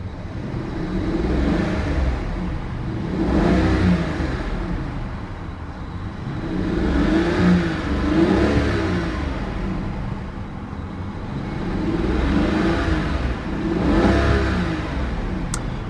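A 2014 Rolls-Royce Ghost SWB with a 6.6-litre V12 revs three times in smooth, rising-and-falling swells, a deep, muffled engine drone between each rev, heard from nearby without talk.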